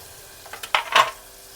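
Tomatoes, chillies and curry leaves hit hot oil with turmeric, giving a couple of short, quiet bursts of sizzle and stirring in an otherwise still moment.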